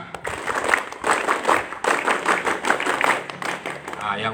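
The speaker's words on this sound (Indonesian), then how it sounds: "Tepuk pramuka." Scout troop members at an elementary school opening ceremony perform the rhythmic scout clap in patterned bursts of hands and thuds, mixed with chanting voices, lively and close.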